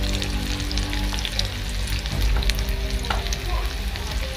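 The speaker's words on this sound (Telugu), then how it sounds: "కొంచెం ఆయిల్లో వేసి డీప్ ఫ్రై చేసుకున్నామండి" Cauliflower pieces deep frying in hot oil over a medium flame for cauliflower 65, a steady dense sizzle with crackling pops running throughout, close and fairly loud.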